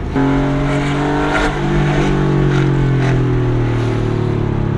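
A Porsche 964 sports car engine drones steadily at close range on a street, its tone shifting slightly as it drives along with poor wheel alignment, with no talking.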